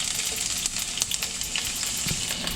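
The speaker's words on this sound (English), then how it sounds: "I'm gonna saute the onion. So this is olive oil. I'm gonna saute some onions." Onions sauteing in hot olive oil give a steady, close sizzle and crackle with occasional small pops throughout, and no one speaks.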